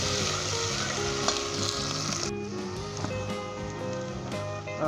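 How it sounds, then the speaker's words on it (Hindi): Onion, ginger and garlic fry in a pan with a loud, steady, crackling sizzle that goes on the whole time, with brief stirring scrapes and no talking. "लाइट गोल्डन ब्राउन होने तक हम इसे भूनेंगे अच्छे तरीके से, प्याज को, अदरक को, लहसुन को"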